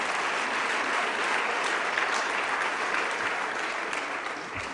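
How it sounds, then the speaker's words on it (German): An audience at a company general assembly applauds the sponsors, a steady, even wash of many hands clapping that holds throughout before easing slightly at the end. "auch ein Applaus wert."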